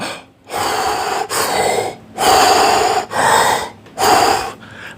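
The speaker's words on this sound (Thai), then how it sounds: "หายใจเข้าทางปาก เราจะหายใจเข้า" Deep breaths drawn in through the mouth during a breathing exercise: five loud, close, rasping gasps in a steady rhythm, separated by brief pauses, with no talk.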